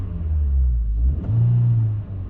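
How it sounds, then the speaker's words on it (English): A 2022-2024 Honda Civic Sport Hatchback 2.0 manual revs in neutral, a loud, close, low engine drone that climbs, dips briefly and holds high, the revs hanging before easing off. "It has a ton of rev hang when you're revving it in neutral"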